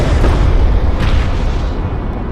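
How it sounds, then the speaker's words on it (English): A hostile bomber is destroyed in Homeworld: Deserts of Kharak, making a loud, close explosion with a deep rolling rumble. It holds heavy and sustained before thinning out slightly toward the end. "Hostile bomber destroyed"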